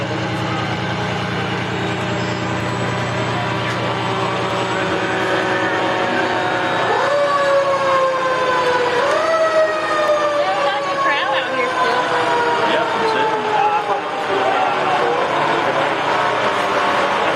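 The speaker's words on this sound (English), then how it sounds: "The engine 160 from Union Fire Department." Engine 160 of the Union Fire Department rolls through a Farmers Day parade, its siren wailing loud and close in repeated rising and falling sweeps, with a low engine rumble underneath throughout.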